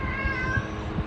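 A pet cat gives a single drawn-out meow, close and clear indoors, with no voices over it.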